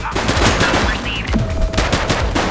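Gunfire fills a police shootout in The Precinct: rapid, dense bursts of shots crackle loud and close almost without pause, with a brief tonal radio-like beep partway through.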